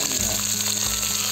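Garlic, onion and tomato, with ginger, fry in a hot pan with a steady, close, unbroken sizzle; no one speaks.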